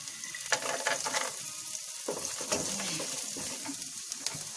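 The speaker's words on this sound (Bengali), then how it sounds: "এবার এটাকে আমরা ভালো করে ভেজে নেব।" Capsicum and raw peanuts frying in a pan, a bright steady sizzle broken by several scraping stirs, close and loud with no voices.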